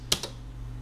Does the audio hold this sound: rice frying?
no